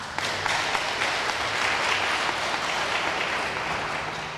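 An audience applauds at an outdoor grant presentation ceremony, a continuous even roar of clapping heard from a moderate distance without any speech on top.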